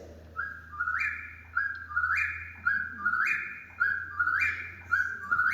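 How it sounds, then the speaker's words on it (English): A whippoorwill's whistled call repeats rhythmically, about six rising three-note phrases in steady succession, clear and fairly close over a low hum. "We also have whippoorwills that migrate through. They don't breed here, but then their call sounds like this."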